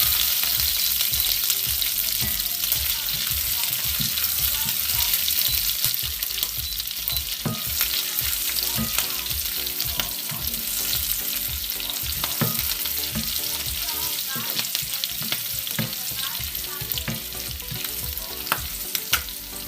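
Slit green chillies fry in a hot pan with a steady, dense crackling sizzle that runs the whole time, with occasional sharper pops and stirring scrapes close by.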